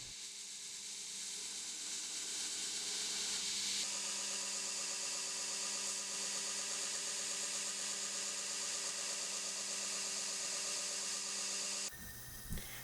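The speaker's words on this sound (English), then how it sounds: "as you see me grinding this knife on the belt sander" A belt sander grinds a steel tanto knife blade, a continuous droning whine with a harsh, steady grinding tone that shifts in pitch partway through and cuts off near the end.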